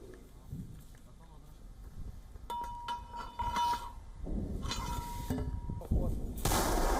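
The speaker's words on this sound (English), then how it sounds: "In Donbass, deafening explosions break the silence." Heavy booms of artillery fire thud repeatedly in the distance in Donbass during the Russia-Ukraine war, mixed with sharp cracks, while a voice speaks over the rumbling background.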